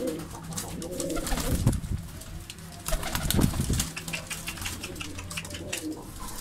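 Pigeons in a Kocaeli pigeon shop, among them a mirror-tail bird, coo in low rolling calls, with a couple of brief wing flaps and a steady background hum, and no voices.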